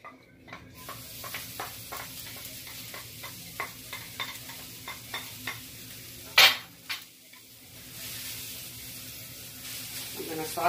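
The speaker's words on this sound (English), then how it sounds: "I'm going to saute them around just a little bit until they crystallize" Onions sauté in a little olive oil in a pan for enchiladas suizas, a soft sizzle under a regular series of scraping stirs, with one sharper clatter midway.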